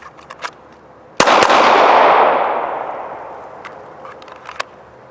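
Pistol shots fired at about 5 yards: two sharp, loud cracks close together, followed by a long decaying wash, with smaller clicks and clatter before and after.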